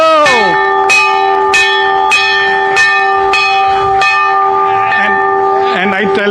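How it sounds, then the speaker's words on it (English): A ceremonial bell at a stock market opening ceremony, struck hard about eight times at a steady pace, each loud ringing strike overlapping the last as its tone hangs on, with faint voices near the end. "now you have to ring the bell very hard"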